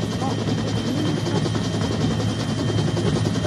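Helicopter in the VR shooter Onward, a steady loud rotor drone with a low thumping beat that fills the whole stretch, with faint voices underneath.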